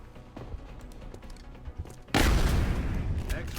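An alloy cannon fired in the XCOM Enemy Within Long War mod, a sudden heavy blast partway through that erupts into a loud, sustained rumbling roar after a quieter stretch of soft shuffling and distant pops.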